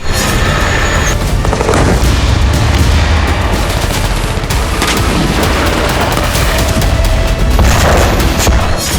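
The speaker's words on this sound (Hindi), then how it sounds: "इजराइल के फाइटर जेट बारूद बरसा रहे हैं।" Explosions from Israeli fighter jet bombing in Gaza: loud, dense, continuous booms and crackling blasts that overlap without pause, with sharp bursts like gunfire throughout.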